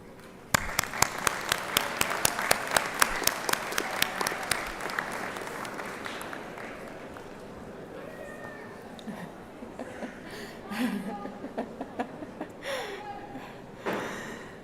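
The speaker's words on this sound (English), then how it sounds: "give them a round of applause" An audience at a high school graduation ceremony claps, a burst of dense applause that thins out and fades over several seconds, leaving scattered claps and faint murmurs.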